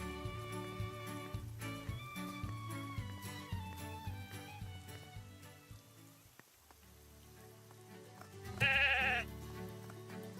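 Game-style sheep bleats ring out over a bed of music, with a louder bleat near the end.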